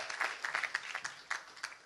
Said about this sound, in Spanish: Se le va un aplauso de lo fuerte a Dios